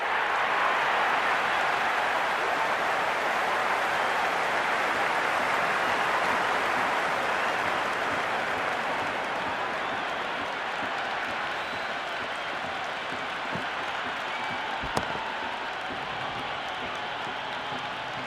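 A packed cricket stadium crowd at an MI vs CSK match roars with sustained applause and cheering, a dense, steady wall of noise that holds for the whole stretch with a sharp click near the end.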